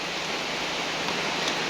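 Steady moderate rain falls in an even, continuous wash of hiss with no breaks, close by and fairly soft, with no voices heard.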